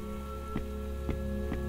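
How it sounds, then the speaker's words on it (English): Steady rain patter falls in a video game, a continuous wash of drops with a few brief louder splashes at regular intervals over a low steady hum. "This rain, it's chocolate."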